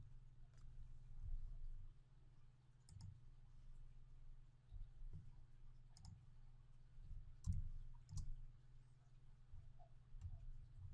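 Mouse clicks selecting icons in Mastercam 2018 CAM software, a few sharp, faint clicks spaced irregularly over a steady low electrical hum, with no talking.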